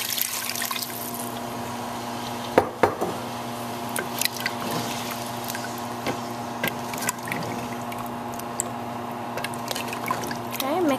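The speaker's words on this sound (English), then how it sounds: "take 2 glasses of water and add it to our dish" Two glasses of water pour into a pot of pulao, a steady trickling splash with a few sharp clinks of glass against metal, fairly close.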